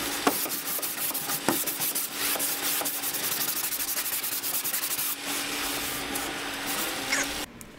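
White smeary wax is rubbed by hand across a painted farm table with a French country finish, making a steady, close scrubbing and rasping sound in repeated strokes, with no talking.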